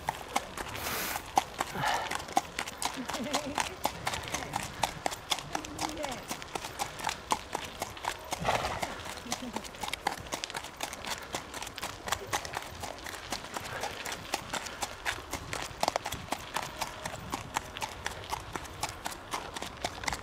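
Several horses pass by on a leisurely ride, their hooves clip-clopping in a steady continuous rhythm close by, while people talk in French over the hoofbeats.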